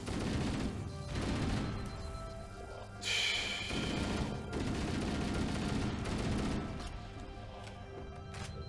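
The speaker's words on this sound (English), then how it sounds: "stuff's exploding all around me" Explosions and gunfire from Halo: Combat Evolved, a dense, continuous barrage of blasts and shots with a sharp crashing burst partway through, loud and busy throughout with no talk.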